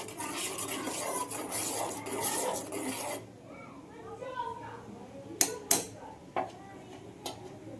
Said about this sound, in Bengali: এটা সব সময় হেলাতে থাকতে হবে যাতে নিচে না ধরে যায়।